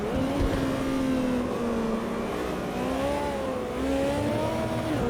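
Lexus LFA engine in the Automobilista 2 racing game, a high-pitched wailing tone that climbs and falls with gear changes and revving, loud and continuous throughout.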